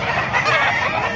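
Gamefowl roosters clucking and crowing together at a crowded Bocaue, Bulacan gamefowl venue, a dense, loud chorus of overlapping bird calls filling the space without pause.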